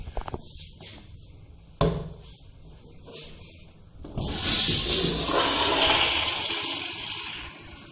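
A 2008 Eljer Signature wall-hung toilet flushes with a loud rushing surge of water that holds steady, then slowly tapers off, after a couple of soft clicks.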